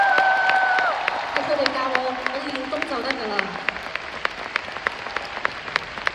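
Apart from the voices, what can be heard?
concert audience applause for the performers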